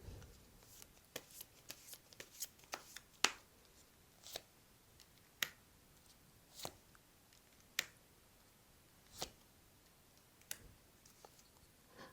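Tarot cards being shuffled before a draw, a series of soft separate riffles and snaps spaced out at close range in a quiet room.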